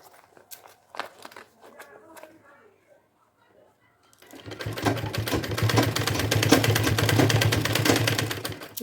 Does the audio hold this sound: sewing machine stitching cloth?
yes